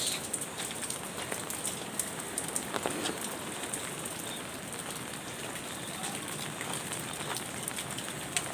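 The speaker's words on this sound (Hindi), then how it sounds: "हल्की हल्की बारिश।" Light rain patters in a continuous soft hiss with scattered close drops, steady and even throughout, outdoors on a mountain road near Vashisht in the hills, with no voices over it.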